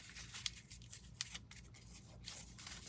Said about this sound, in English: I usually fold them over and then come back with the box knife and cut them off.